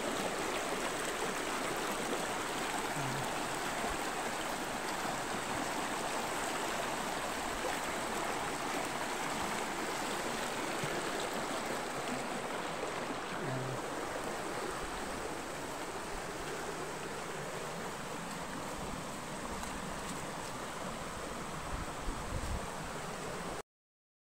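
Stream water flows steadily through a swampy patch of woodland, a continuous broadband rush and trickle that stays close and even throughout with no voices.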